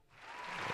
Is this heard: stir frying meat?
no